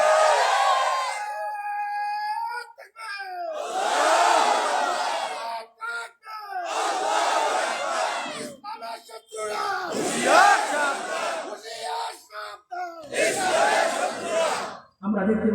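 A large crowd shouts the Nara-e-Takbir Allahu Akbar slogan at a religious gathering. Five or six loud, full-throated collective cries come in repeated bursts separated by short gaps.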